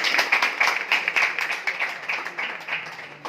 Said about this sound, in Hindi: प्रियांशु के लिए तालियां बजा दें।